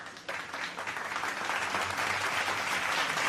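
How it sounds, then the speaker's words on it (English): Audience applause rising quickly after a brief pause and filling the space, a dense, steady patter of many hands clapping that holds at moderate loudness throughout. "We got to give you applause."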